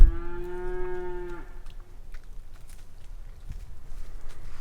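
Cattle near a cattle guard on a Utah trail, one loud close moo opening the sound, then faint shuffling and rustling outdoors with no talk.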